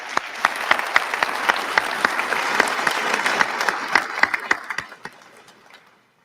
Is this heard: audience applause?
yes